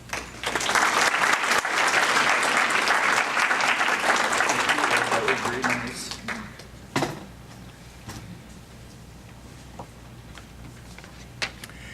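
A lecture audience applauds steadily for about six seconds to welcome Dr. Brad Hinze, dense clapping that then fades out into scattered room noise and a few thumps.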